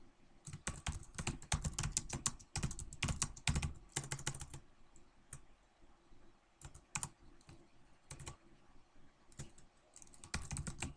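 Fingers type on a computer keyboard in steady runs of quick clicking keystrokes, broken by short pauses, close but fairly quiet.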